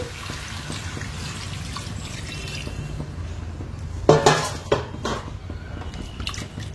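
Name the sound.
water being added to fish curry in a pan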